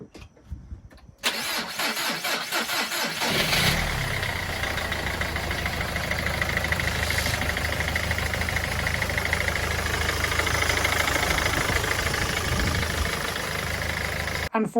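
A Mercedes W204 engine, freshly fitted with a replacement throttle body, cranks and catches after a second of near silence, then settles into a loud, steady idle with a slightly uneven, knocking edge that continues to the end.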